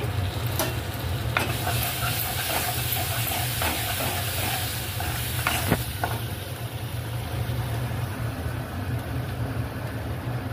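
Cumin seeds sizzling in hot oil in a home kitchen, a steady bright hiss and crackle with a few sharp pops in the first half, close and continuous throughout.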